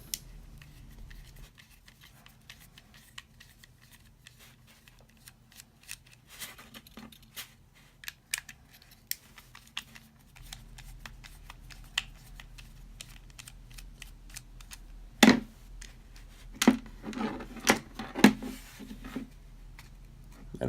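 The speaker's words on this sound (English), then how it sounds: "you first need to take out these two screws here on the shell of the motor" Two screws are backed out of the shell of a dye dam box rotor motor. Sparse, faint small clicks and ticks of a tool and handling are heard in a quiet room, growing a little busier toward the end.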